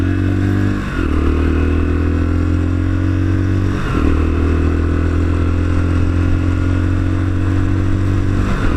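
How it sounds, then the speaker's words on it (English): A Lexmoto Assault motorcycle is ridden on the road, its engine a loud, steady drone that dips and climbs again at two gear changes, heard up close without speech. "I have been enlisted today to take this bike for its MOT. That's why I'm riding it."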